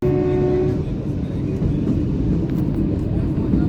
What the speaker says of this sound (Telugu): సో ఫైనల్లీ ట్రైన్ అయితే కల్కా నుంచి అయితే స్టార్ట్ అయిపోయింది